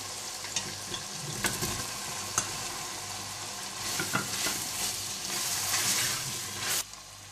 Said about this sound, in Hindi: और जब मसाला थोड़ा सा भुन जाए तो आप इसमें कलेजी डाल दें।